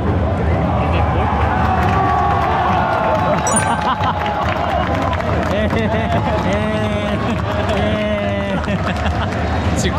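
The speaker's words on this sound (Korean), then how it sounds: "계속해서 응원을 보여주고 있는 멋진 삿포로의 서포터들" Sapporo supporters at a football match fill the stands with continuous loud chanting and crowd roar, a dense wall of voices with rising cheers, while a nearby voice talks over it.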